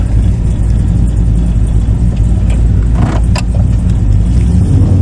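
An LS V8 swapped into a 2006 Monte Carlo converted from front-wheel to rear-wheel drive roars at a steady loud idle with a brief rev, heard up close and filling the whole clip.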